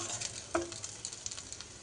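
Spice masala frying in oil in a pan, a soft steady sizzle with a few scraping stirs, close and fairly quiet with no talking.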